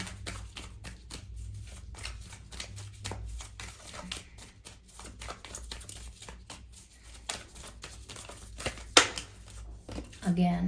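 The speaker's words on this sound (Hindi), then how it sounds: "एक से ज़्यादा कार्ड्स बार बार स्लिप हो रहे हैं" Tarot cards are shuffled in a steady run of soft papery riffles and flicks, with a few cards slipping loose, while a voice talks over them almost throughout.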